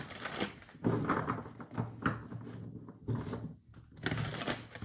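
A tarot deck is shuffled by hand at close range, giving quick papery riffles and soft slaps in several short bursts separated by brief pauses.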